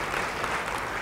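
Applause from a church congregation during a sermon, a dense, steady patter of many hands clapping at once with no voices over it.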